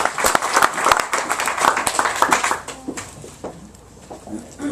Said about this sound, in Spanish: Buen aplauso para Dios.